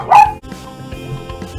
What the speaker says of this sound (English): The dog was freaking out about something.